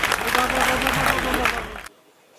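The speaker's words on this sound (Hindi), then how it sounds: "छोटी सी तालियां एक बार और हो जाए अखिलेश दादा के" An audience at a Hindi comic poetry gathering breaks into dense, loud applause. The close, steady clapping lasts nearly two seconds and cuts off sharply into quiet.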